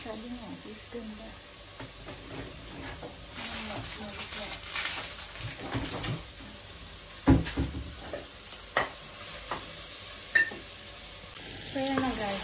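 Onion, tomato and garlic sauté in a pan for pork giniling, a low continuous sizzle with scattered scraping stirs and a few sharper utensil knocks, close by and moderately quiet.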